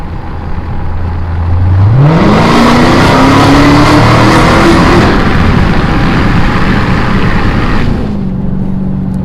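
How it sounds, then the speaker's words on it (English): A powerful Dodge Hellcat engine idles, then roars as it accelerates hard under a bridge, pitch climbing steadily for several seconds before easing back to a lower rumble. "A little under bridge pull for you guys, get to hear the car."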